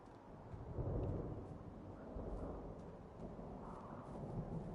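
Distant thunder from an approaching storm in the game Firewatch, a low, drawn-out rumble that swells and fades over several seconds, heard alone without talk.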